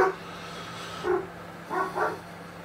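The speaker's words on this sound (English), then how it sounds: "you'll have to excuse the dog on the background noise" A dog gives a few muffled barks and yips in the background, spaced irregularly over a faint steady hum.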